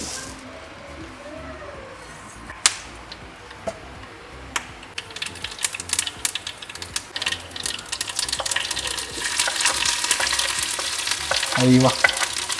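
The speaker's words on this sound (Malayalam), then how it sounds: "ഞാൻ വെളിച്ചെണ്ണ ഒഴിച്ചു ഇനി സ്വല്പം കടു പൊട്ടിക്കുകയാണ്" Mustard seeds splutter in hot coconut oil for a Kerala mango curry as a quiet sizzle that builds into dense, rapid crackling pops. The pops grow louder and more frequent toward the end.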